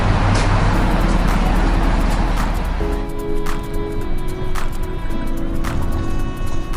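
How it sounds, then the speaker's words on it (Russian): Interior of a Kyiv route minibus, the 475 marshrutka, on the move: a loud, steady engine drone and road rumble with shifting low engine tones as it changes gear, plus faint rattles and clicks throughout. "Я сел именно в такой автобус"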